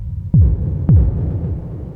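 Two deep, booming synthesized drum hits from modular drum modules, each followed by a long, heavy reverb tail that washes out behind them, loud and close with no talking.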